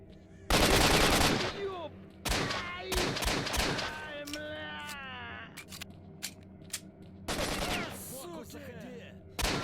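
Automatic gunfire from a gun in S.T.A.L.K.E.R. Shadow of Chernobyl rattles out in three loud, close bursts, with game sounds and voices in the quieter gaps between them.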